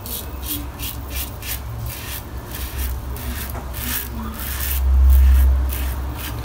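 A safety razor blade scraping across stubble on a first shaving pass makes a series of short, rhythmic raspy strokes, close and fairly loud, with a brief low thump near the end.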